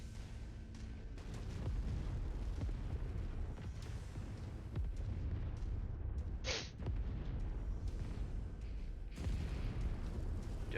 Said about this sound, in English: Judging by the sheer amount of explosions, looks like they're doing a good job over there.